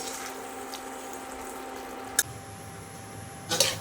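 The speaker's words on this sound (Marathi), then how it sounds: "थोडंसं पाणी घालणार आहे" Water poured into masala frying in a pan, a soft running trickle over low background hum, followed by a couple of sharp brief clatters.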